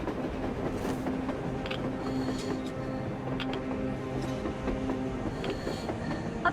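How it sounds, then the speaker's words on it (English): A train rolls along on the snowy surface in the video game Metro Exodus, a continuous rumbling clatter of wheels with faint metallic squeals and hum throughout. "A train! A damn train on the surface!"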